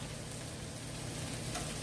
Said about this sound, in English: the corned beef hash is sizzling